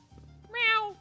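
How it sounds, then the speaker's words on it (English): A single cat meows in the video game Tales of Xillia, in the Trigleph Port area of Elympios: one clear, rising-then-falling meow with bright harmonics, close and alone over a faint low background hum. "Meow! They do have cats in Elympios."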